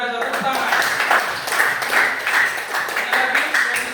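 Students in a classroom clap together in a brief burst of applause, with the claps dense and close and some voices mixed in.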